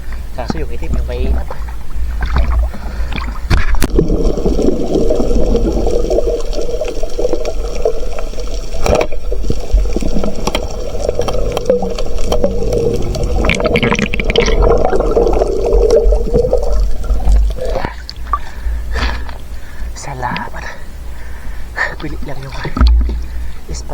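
Floodwater rushes and pours steadily in the foreground, a dense continuous wash that runs for most of the stretch and eases near the end, with people talking over it.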